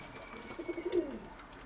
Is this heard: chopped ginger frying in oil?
no